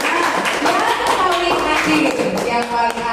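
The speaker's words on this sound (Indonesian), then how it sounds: "coba tepuk tangan untuk kelompok 2" Students clap for a student group in a classroom during a science lesson, brisk mixed handclaps overlapping with children's voices and chatter throughout.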